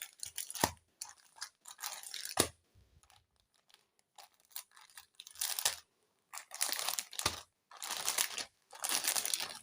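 A Meesho delivery package holding a readymade blouse, torn and unwrapped in uneven bursts of loud crinkling plastic and paper rustle at close range, separated by short quiet gaps.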